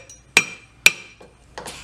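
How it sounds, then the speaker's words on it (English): A hammer strikes a silver ingot in a silversmithing workshop, with two loud ringing metallic blows about half a second apart, followed by two softer taps. The blows are close and there is no talk. "they do everything like this with a hammer"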